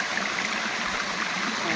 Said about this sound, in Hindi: पानी का बहाव बहुत तेज है